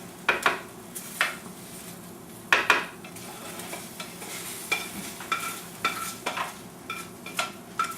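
Chopped onions cook in a pan for a vegan cashew penne sauce, with a steady soft sizzle under repeated scraping strokes of a utensil against the pan, several sharper clinks punctuating the stirring, close and clear.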